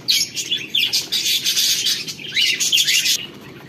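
Several caged finches chirping close by, rapid high tweets in quick clustered bursts with brief gaps, loud and without any talk.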